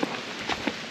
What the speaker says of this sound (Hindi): it has started to rain.